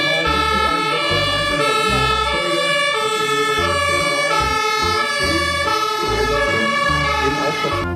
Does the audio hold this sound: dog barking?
no